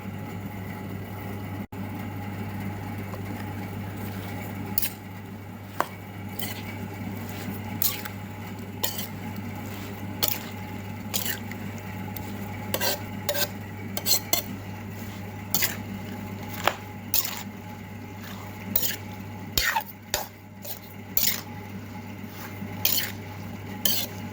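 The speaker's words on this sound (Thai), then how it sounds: "แล้วก็คลุกเคล้าให้เข้ากันนะจ๊ะ" Spicy cucumber salad is tossed with tamarind juice in a bowl, producing irregular clinks, scrapes and soft wet squishes over a steady low hum, moderately close and with no talking.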